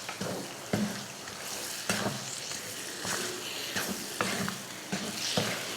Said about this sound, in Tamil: கலந்து விட்டுட்டு ஒரு 5 நிமிஷத்துக்கு நல்லா வதக்கி விடலாம்